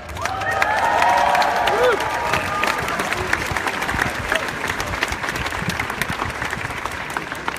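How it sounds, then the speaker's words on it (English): The crowd at a large outdoor rally against white supremacy breaks into sustained applause and cheering. Shouts and whistles rise over the start, and steady clapping continues afterward. "Another round of applause for Tahira."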